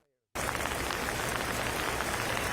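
Heavy rain from Hurricane Fiona in Puerto Rico pours down in a steady, dense roar, starting abruptly after a brief silence and holding loud and constant.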